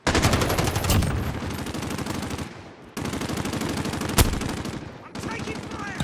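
Gunfire from Call of Duty Modern Warfare in a co-op mission: loud, dense automatic bursts rattling almost continuously, with short gaps and a sharp louder shot near the end, under occasional voices.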